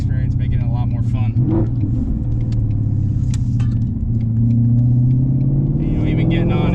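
A car with a Gen 3 Coyote engine and ported throttle body rumbles and blips its revs on a downshift, a deep low engine growl rising and falling, with a person talking over it.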